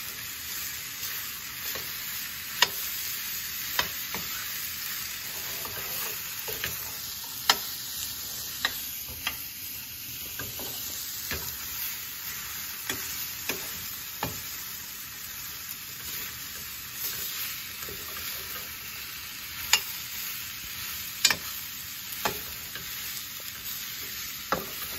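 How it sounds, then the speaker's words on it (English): Food is mixed with salt in a bowl, with sharp utensil clicks and taps scattered over a soft continuous rustle, close and without talk. "And I'm going to mix it well"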